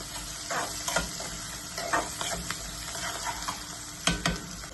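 Onion with asafoetida and turmeric frying in a pan, a soft continuous sizzle with occasional spoon scrapes and clatters, close but fairly quiet.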